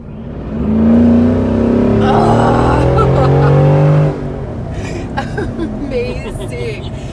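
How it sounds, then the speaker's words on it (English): A Mercedes-Benz G63 AMG 6x6 engine roars loudly under hard acceleration for about four seconds from inside the cabin, rising in pitch, then drops to a quieter cruise as voices talk over it. "this vehicle, it's not loud when you're just kind of cruising along. But when you step on it, come on."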